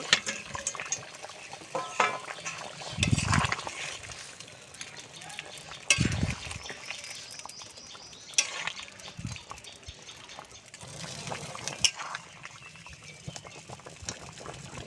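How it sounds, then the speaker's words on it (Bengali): Fried fish going into a boiling curry in a pot for a village-style Bengali fish curry with vegetables, with splashy liquid bubbling, stirring clatter and a few sharp knocks, close and uneven. "ঝোলটা ফুটে গেছে, ভেজে রাখা মাছটা ঝোলে দিয়ে দেব।"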